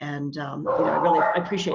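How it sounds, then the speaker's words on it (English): Small dogs bark and yip in a home during a remote interview, sharp high barks mixed with whimpering sounds under a person talking nearby. "Sorry about my dogs."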